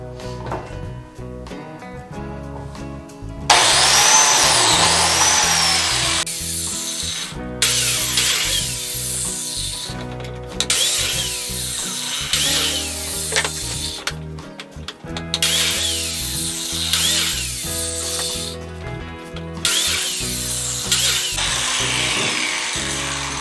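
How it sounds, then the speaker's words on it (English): A biscuit joiner cuts slots in black walnut in several loud, whining bursts, each spinning up and then winding down, with short pauses between the cuts. "Here's our biscuit joiner."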